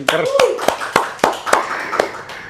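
An audience at a business talk gives sparse, separate hand claps, about eight sharp slaps spaced unevenly over a couple of seconds, close and fairly loud, with a voice talking briefly at the start.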